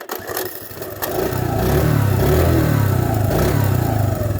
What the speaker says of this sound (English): Really nice running little ATC 70, little 3-speed